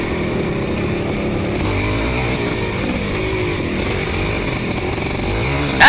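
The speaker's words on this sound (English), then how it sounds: "That bike doesn't even sound like you're cracking the throttle at all" Vintage motocross motorcycle in a 50+ post-vintage cross-country race, its big-bore engine droning steadily through second and third gear, loud and sustained, with a brief sharper burst at the end and no talk.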